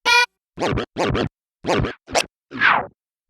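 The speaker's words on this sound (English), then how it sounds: "Turntable stuff. A lot of scratching." Turntable scratching in short, sharp bursts, about six quick back-and-forth strokes separated by brief silences, loud and up close with no talk.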